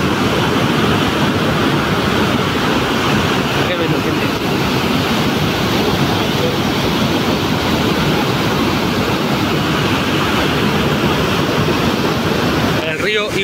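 Iguazu Falls in Brazil roaring at full force, a dense, constant rush of falling water filling the whole stretch without a break.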